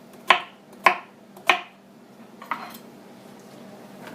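A knife chops a sweet potato into small cubes on a cutting board, giving three sharp, evenly spaced chopping knocks followed by a couple of softer cuts, close and clear.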